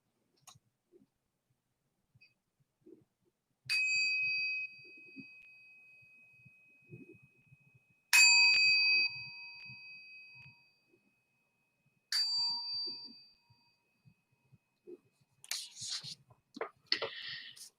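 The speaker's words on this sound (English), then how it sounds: "I will sound the bell 3 times" A meditation bell rings out three times, each strike a clear sustained metallic tone fading slowly, spaced about four seconds apart, in a quiet room with faint background movement and a soft rustle after the last ring.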